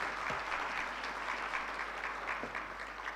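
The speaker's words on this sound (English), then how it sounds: "Another round of applause for him, please." An audience at an official opening ceremony claps in a steady, even wash of applause that holds at a moderate, slightly distant level throughout, with no talk over it.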